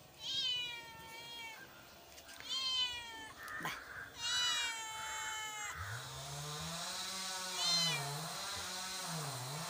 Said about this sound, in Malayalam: മ്യാവൂ, എടാ മിട്ടുപൂച്ച.